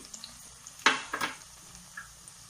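Curry leaves, onion and ginger are dropped into hot coconut oil for a fish curry, giving two quick, sharp bursts of sizzling that fade over a quiet background crackle.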